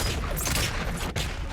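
Dense, rapid gunfire from a firefight in the video game God of War Ragnarok, a loud continuous barrage of overlapping shots that barely pauses throughout.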